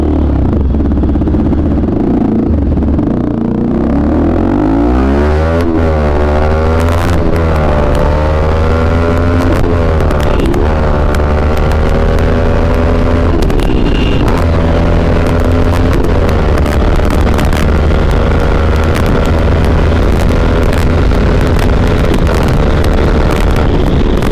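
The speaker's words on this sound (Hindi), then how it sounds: "साउंड के लिए हमने ओशियन रेसिंग का एग्जॉस्ट लगा रखा है, क्या ही आउटपुट निकल के आता है भाई साहब" A Bajaj RS200 motorcycle fitted with an Ocean Racing aftermarket exhaust revs hard and repeatedly, its engine pitch sweeping up and down, very loud and close, with wind buffeting the microphone.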